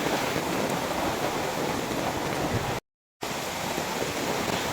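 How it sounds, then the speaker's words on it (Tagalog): Heavy rain pours down in a dense, constant roar, briefly cutting to silence partway through before the downpour resumes, in Siquijor. "Lakas-lakas talaga ng ulan."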